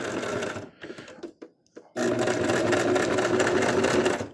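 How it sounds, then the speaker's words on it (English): A sewing machine stitches across a plush bunny, loud and close. It runs in short stop-start bursts, goes quiet briefly, then settles into a long steady run. "And start sewing across."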